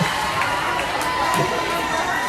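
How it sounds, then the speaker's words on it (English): A crowd at a women's roller derby playoff game in Fort Walton Beach, Florida cheers in a steady, loud roar, with scattered shouts and voices mixed throughout. "I don't know if I've ever seen them cheer so much for people going to the penalty box."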